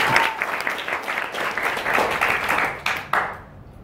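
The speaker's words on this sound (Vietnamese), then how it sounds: "một tràng pháo tay cho sức mạnh thế nào?" Audience applause fills a meeting hall, a dense burst of many hands clapping that holds steady for a few seconds and then tapers off near the end, with some faint voices under it.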